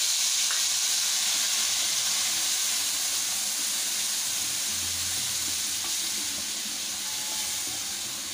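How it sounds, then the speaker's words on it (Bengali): Spice paste for a fish curry, loosened with buttermilk, frying in a pan with a loud steady sizzle and hiss plus soft stirring scrapes, close and continuous throughout. "মশলাটা কিছুক্ষণ কষিয়ে নেব।"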